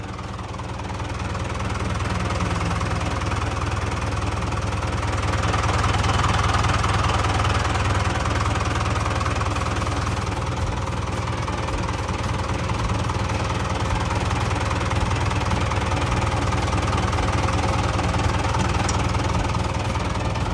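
The diesel engine of a Komatsu 510 wheel loader idles steadily with a deep low rumble and faint mechanical knocking, running continuously throughout without voices.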